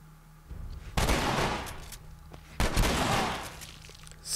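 Military turret gunfire in The Last of Us, coming as two heavy rattling bursts of rapid shots, each lasting about a second, loud and close amid background game noise.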